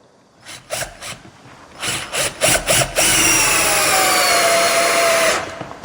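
A Tool&Tool 18V cordless hammer drill pulses in a few short bursts, then runs continuously for several seconds at full, gritty intensity before stopping.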